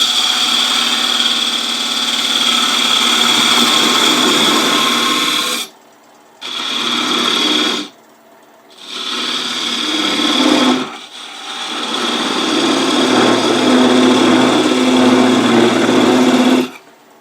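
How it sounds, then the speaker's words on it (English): A wood lathe hollows a spinning top with a parting tool, giving a loud, steady high whine and scraping that cuts off in two short gaps before resuming, with no talk. "I'm doing most of the hollowing with this parting tool."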